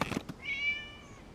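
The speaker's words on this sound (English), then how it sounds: "It was just a cat." A single cat meows once in the Genshin Impact video game, a clear, drawn-out mew that rises and then fades, preceded by a couple of soft thuds.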